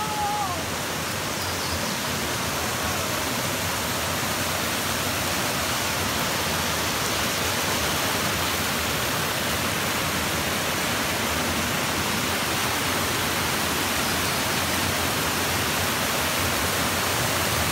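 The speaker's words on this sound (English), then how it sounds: "There's a waterfall." A waterfall on Allen Creek roars in a loud, unbroken broadband rush, steady and close with no pauses or other sounds standing out.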